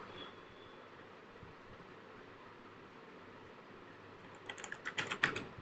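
Clicky keystrokes on a computer keyboard during a work session, a short burst of rapid taps arriving near the end after a stretch of quiet room hiss, fairly close and moderately loud.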